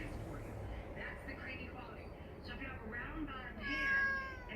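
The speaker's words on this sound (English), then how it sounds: "Oh my God, he's meowing." A pet cat meows at home, its cries rising over a low, steady background rumble, with a person speaking nearby.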